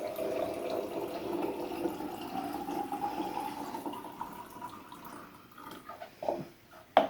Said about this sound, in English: we can pour water right through that